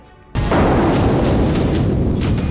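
A sudden heavy blast breaks the quiet, followed by a sustained loud, rumbling roar of explosions and booming fire that keeps going without letup.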